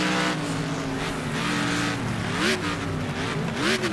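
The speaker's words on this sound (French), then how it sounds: "le son moteur absolument énorme" American V8 car engine in Next Car Game, a steady loud roar with rising and falling pitch as it revs through gears, with brief tire noise, no voices.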